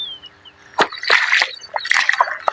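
Feet squelch and slosh through muddy water in a farm field, a few uneven wet splashes and sucking steps close by, with a faint background hum and no talk.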